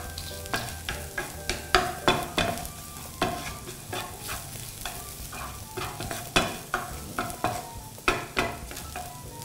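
Dried chilies and garlic stir-fried in a hot pan, a near rhythmic series of sharp scraping strokes against a light sizzle, repeating roughly every half second.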